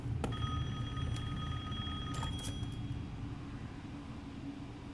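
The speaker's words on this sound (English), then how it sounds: "Are you just gonna let the phone ring?" Telephone ringing in the video game Resident Evil Village, a bright repeating bell tone over a steady low rumble of background game ambience, with ringing bursts early in the clip and no talk.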